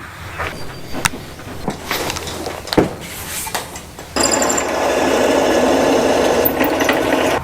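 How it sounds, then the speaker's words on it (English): A few scattered clicks and scrapes, then a drill whines steadily and loudly, grinding continuously through the rest of the clip as it drills out a threaded part. "Looks like I'll have to drill out that threaded part."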